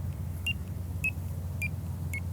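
A Nash R4 carp bite alarm gives four short, evenly spaced electronic beeps, each a pitch step apart as the tone setting cycles, over a steady low background rumble.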